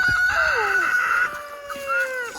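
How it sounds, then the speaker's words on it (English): A rooster crows loudly and close by, one long drawn-out call with a wavering end, followed by a quieter trailing note. "Rooster"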